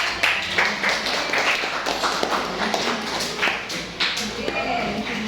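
A classroom of students clapping their hands together, a busy patter of uneven claps close by, mixed with murmuring voices throughout.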